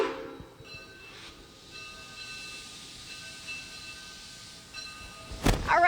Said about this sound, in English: listen to the steam engine of this locomotive to help us transition.